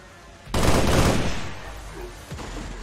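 A sudden loud burst of gunfire in XCOM 2: War of the Chosen, a rapid fusillade that fades into a rumbling tail, followed by a fainter shot.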